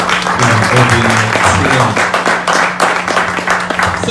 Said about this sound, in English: I want to implore all of us to give him a round of applause for being